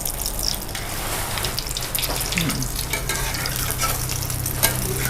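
Thai omelette with straw mushrooms frying in oil in a pan, a steady sizzle and crackle under repeated scraping and stirring strokes, close and continuous with no talk.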